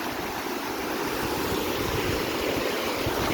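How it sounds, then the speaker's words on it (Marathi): A small waterfall on a stream running through farmland, a continuous rushing wash of falling water, steady and fairly even, heard without any talk. "इकडे तयार झाला आहे छोटासा वॉटरफॉल"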